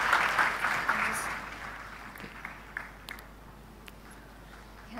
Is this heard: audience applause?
yes